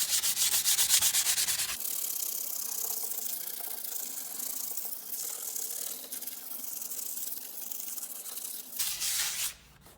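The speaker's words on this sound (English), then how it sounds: "So let's go ahead and sand our board." Steady rubbing scrape of sandpaper worked across a wooden board for a porch sign, continuous and close, with a brief louder burst of friction near the end.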